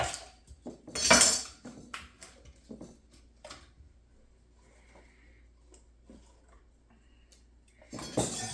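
Knife chopping green onions on a cutting board in a kitchen, scattered taps and clinks of varying loudness, with a louder burst near the start and another at the end.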